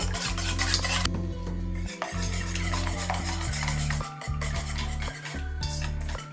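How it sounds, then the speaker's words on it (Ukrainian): Eggs and salt being mixed in a bowl, with a steady run of quick utensil clinks and scrapes against the bowl under a constant low hum, close and alone with no talk. "Перемішуємо яйця."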